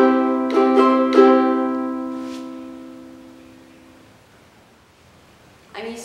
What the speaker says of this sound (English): This first strumming pattern is down, down, up, up, down, up.